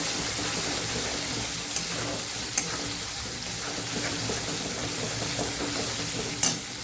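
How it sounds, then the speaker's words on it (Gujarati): Kashmiri red chili powder and turmeric sautéing in hot oil for a Gujarati brinjal-potato sabji, a steady close sizzle with stirring scrapes and a few sharp utensil clicks throughout. "અડધી ચમચી કાશ્મીરી લાલ મરચું ઉમેરશું એ કલર માટે. 5 ચમચી જેટલી હળદર ઉમેરશું. સરસ આપણે સાતળી લેવાનું છે."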